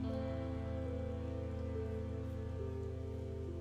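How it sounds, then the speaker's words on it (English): Steady rain falls as ambient sound in the video game I Was A Teenage Exocolonist, a soft continuous patter layered over a sustained, tonal background music drone, faint and unbroken. "It's raining."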